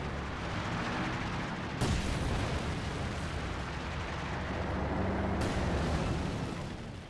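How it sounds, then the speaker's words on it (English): Incendiary artillery barrage in the video game Company of Heroes 2, a continuous roaring rumble of fire and blasts with two sharp impacts standing out, no talk. "Incendiary barrage now being casted."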